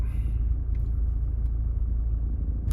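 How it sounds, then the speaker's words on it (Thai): A car driving through the Khon Kaen University campus, its steady low engine and road rumble continuous and fairly close throughout, with no talking. "นี่กำลงขับไปในมอขอหรือ มหาวิทยาลัย ขอนแก่น"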